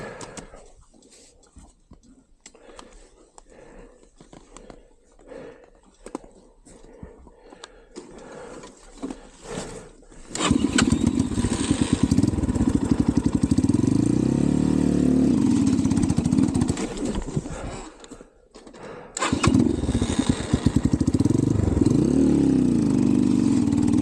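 A 250 TemplarX motorcycle engine idles roughly, then revs loudly up close and sags and bogs under throttle, dropping out briefly before roaring again, with no talking.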